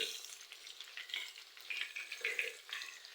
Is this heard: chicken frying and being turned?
yes